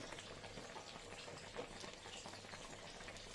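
Turmeric- and cumin-spiced vegetable curry simmering in a pot, a faint, steady bubbling and soft popping alone, no talk.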